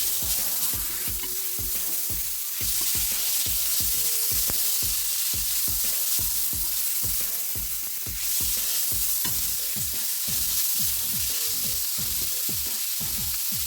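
Broccoli in cream sauce stir-frying in a pan, a constant loud sizzle with a steady rhythm of spatula scrapes and stirs throughout.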